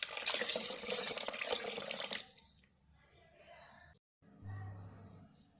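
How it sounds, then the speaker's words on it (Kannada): Cold water pours into blended cream for making butter, a loud close rushing stream for about two seconds, then near silence with faint handling sounds. "ಈಗ ಇದಕ್ಕೆ ಕೋಲ್ಡ್ ವಾಟರ್ ಹಾಕ್ತಾಯಿದ್ದೀನಿ."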